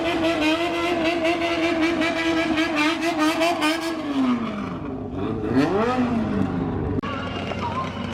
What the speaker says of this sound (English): This is one of the bozo zuku guys leaving here. I'm hoping it makes loads of noise.